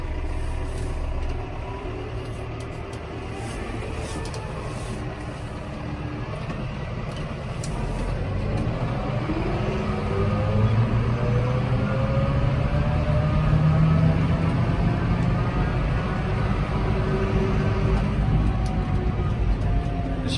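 A John Deere 6120M tractor with an AutoPowr transmission pulls forward, its steady diesel engine drone building in level as it gets moving, with no talking.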